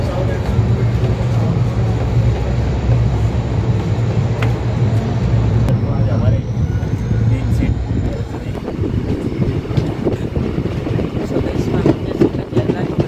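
Devagiri Express train in motion after departing Aurangabad, a steady loud rumble and rattle of the moving carriages throughout, with a voice talking over it.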